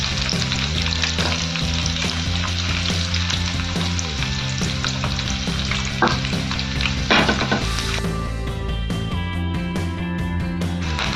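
Curry leaves and chopped onion fry in hot oil in a pan, giving a loud continuous sizzle with scraping stirs partway through and no speech.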